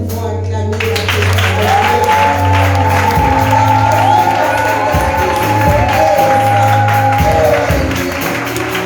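A church congregation at a worship service breaks into loud, sustained applause and cheering with scattered shouts, while steady musical tones carry underneath the whole time.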